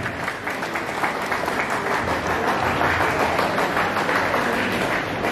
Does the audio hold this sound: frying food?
no